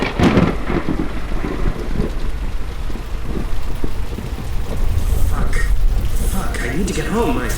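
Thunderstorm with steady rain on surfaces and low thunder rumbles throughout, fairly loud and close, with people talking at times over the storm.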